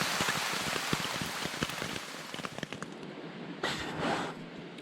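Heavy rain drumming on a tent during a camping trip at The Baths: dense, continuous patter with sharp individual drop hits, loud and close, and a brief surge of heavier pouring near the end.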